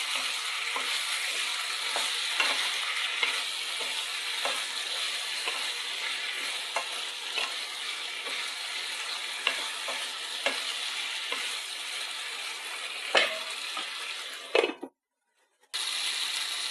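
Beans with magur catfish cooking in a pan, stirred now and then, give a steady soft sizzle with scattered light scraping taps throughout, ending in a sharp clatter and a brief silence.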